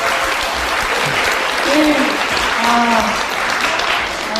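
Loud audience applause at a technology talk show event, continuous clapping across the whole stretch with a speaker's voice briefly heard over it.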